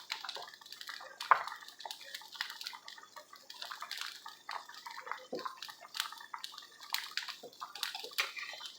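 Cooked broccoli spooned into a pot of soup makes wet sloshing, splashing and dripping sounds, close and continuous with small irregular bursts of liquid movement.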